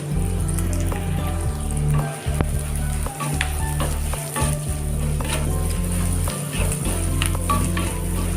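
Onions sautéing in hot oil for a Madurai-style sardine (salai meen) fish curry, with a steady close sizzle and occasional stirring scrapes, heard alone without talk.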